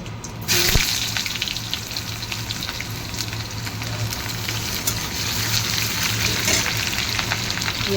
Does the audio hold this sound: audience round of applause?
no